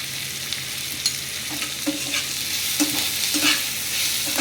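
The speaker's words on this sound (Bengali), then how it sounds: "নুন দিয়ে পেঁয়াজটাকে একটু ভালো করে ভেজে নেবো" Chopped onions frying with salt in a pan: a constant sizzle broken by frequent spatula scrapes and light clacks against the metal, up close, with no one talking.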